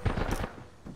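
A short, close burst of rapid gunfire from a shooter video game, several quick cracking shots over about half a second before fading.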